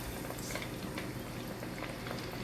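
Shrimp dropped into hot frying grease for po'boys, a dense, steady sizzle and bubbling crackle that fills the space evenly and close by, without any voices.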